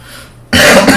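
A single loud, close cough bursts out after a quiet moment, harsh and throaty.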